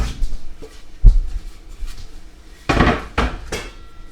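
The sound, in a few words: chopping block being fetched and set down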